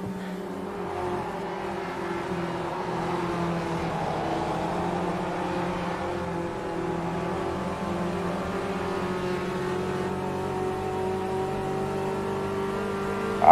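A race car engine in the Automobilista 2 sim racing game drones steadily at high revs through a multiplayer race, a sustained close mechanical whine with slight pitch shifts and no talking.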